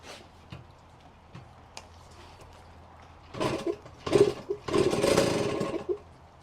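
A 45-year-old mini 2-stroke enduro motorcycle is kicked over several times, with faint clicks at first, then bursts of sputtering engine that nearly catch before dying away, heard close by.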